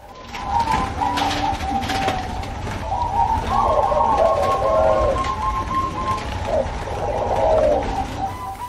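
Soft rhythmic cooing of a Bangkok zebra dove, repeated phrases over a steady background hiss like light rain, no one speaking.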